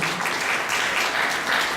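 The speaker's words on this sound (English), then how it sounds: "Please, a long, big applause for him." Audience applause for a guest, a dense, even burst of clapping from a crowd, loud and continuous with no talk over it.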